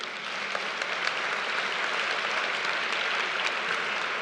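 Sustained audience applause fills the room at the close of an evening of live readings by speakers on stage, steady and dense throughout with no talk over it.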